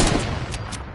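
A loud burst of gunfire from a PS4 shooter game, with close, sharp, rapid overlapping shots filling the whole second.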